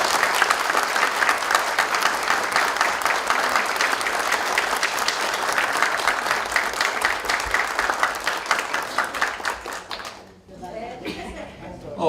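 Sustained, dense applause from an audience at an economics awards ceremony and anniversary celebration, roughly ten seconds of steady clapping that cuts off abruptly, followed by a voice speaking.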